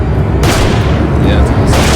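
Heavy, booming gunshots from a crime drama television scene, loud and dense, with a voice talking over them.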